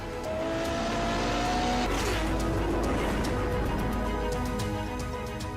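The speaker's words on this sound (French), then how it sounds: "nous fait ici entendre la sonorité de sa motorisation V12 de 800 chevaux." A powerful 800-horsepower V12 sports car engine roars steadily, rising in pitch as it revs and passes, loud and continuous with no voices.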